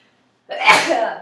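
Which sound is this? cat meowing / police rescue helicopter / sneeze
sneeze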